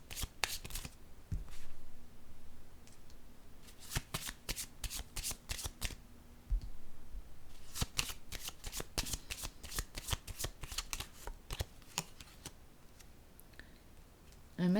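Tarot cards are shuffled and drawn from a deck, producing bursts of crisp riffling and slapping card sounds in irregular clusters, close and clear, with a short pause in between.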